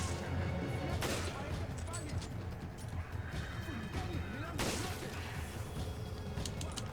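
Gunfire in the video game Resident Evil 5, with a busy game soundscape throughout and sharp broadband shots standing out near the first and fifth seconds, all under a player's continuous excited talk.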